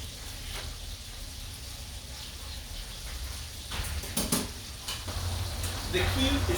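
Sweet and spicy pork chops fry in a hot pot with a steady, close sizzle that swells louder toward the end, broken by a few sharp bursts and clinks. A low hum runs underneath.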